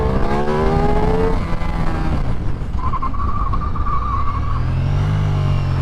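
A 2025 Ducati XDiavel V4 engine revving while ridden on a road, close and loud, with rising and falling pitch sweeps as it accelerates through the gears, plus wind rush.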